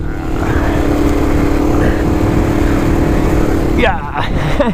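Yamaha TW200 motorcycle engine running while riding, a loud steady drone close to the rider with a brief shift in pitch near the end, and someone talking over it.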